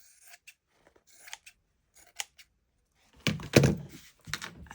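Scissors trim a frayed edge off a junk journal cover, a few quiet snips followed by louder close crunching cuts and a soft thunk.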